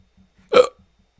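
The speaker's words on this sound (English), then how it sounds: "No, the hiccups." One sharp, close hiccup, a sudden voiced gulp in otherwise near silence.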